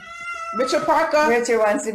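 A pet cat named Richard Parker meows in a clear, drawn-out harmonic call at the start, then keeps meowing as a person talks over it.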